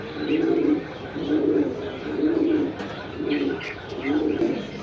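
Pigeons coo at a pigeon sale, giving five regular, repeated low cooing phrases close by that rise and fall in a steady rhythm, with a few faint chirps and knocks in the background.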